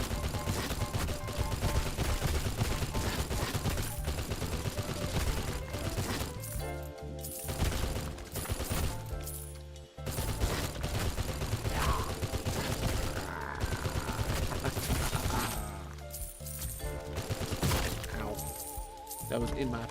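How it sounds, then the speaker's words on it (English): Sustained minigun fire in a first-person shooter video game, a dense continuous roar of rapid shots with brief gaps, loud and close amid other game effects and music, with a voice talking over it. "Oh, there's a minigun up here."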